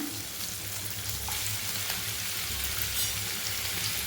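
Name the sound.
tomatoes added to a frying pan for paneer curry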